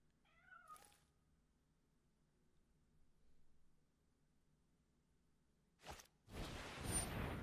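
A single short, fairly faint cat meow plays as a sound effect in the digital card game Magic: The Gathering Arena (Kaldheim set), followed by a low quiet hum and a louder whoosh near the end.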